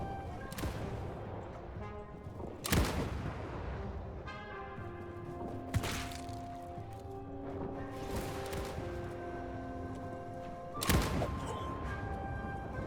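Cannons fire in the Shokuho: Path of the Samurai game, several sharp booming blasts spaced a few seconds apart over a busy battle din with tonal game sounds.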